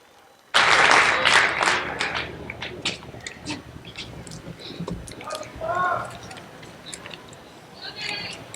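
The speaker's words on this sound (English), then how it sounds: "How about another round of applause for 740 of our newest American Airmen?" A crowd at a US Air Force Basic Military Training coin and retreat ceremony breaks into loud applause for 740 graduating airmen. It starts abruptly, fades over a few seconds, then voices and scattered sounds continue.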